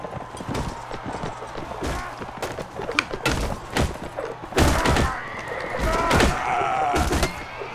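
A horse neighs in the video game Mount and Blade: Warband amid dense clattering hooves and thuds, with the whinny rising near the end over busy game noise.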